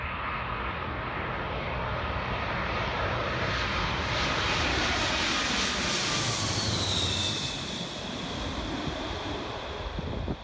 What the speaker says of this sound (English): hopefully catch the plane going over